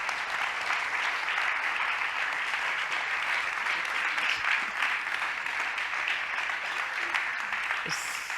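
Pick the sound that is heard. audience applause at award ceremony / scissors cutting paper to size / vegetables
audience applause at award ceremony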